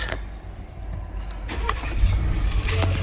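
A Ford Expedition engine cranks and catches, then idles with a steady low rumble, close by.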